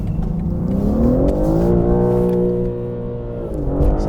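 A BMW M3 engine revs hard and close, its pitch climbing quickly to the rev limiter, holding there and then dropping before a final short blip.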